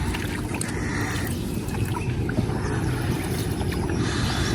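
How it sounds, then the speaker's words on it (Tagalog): A small fishing boat moving across water, with a steady rumbling wash and splashing noise throughout, fairly loud and close, no voices. "nakasakay na kami ni Bossing sa bangka"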